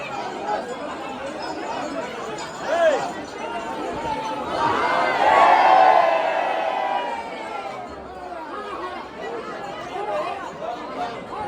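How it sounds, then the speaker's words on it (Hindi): A dense crowd at Shri Kapileshwar Dham temple on Mahashivratri fills the air with continuous chatter and overlapping voices. The babble swells louder midway, with occasional shouts rising above the hubbub. "चारू तरफ पहिला भीड़ छै"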